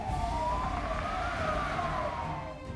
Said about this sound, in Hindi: एक तेजी से भागती हुई एम्बुलेंस झारखंड से बिहार में घुसती है।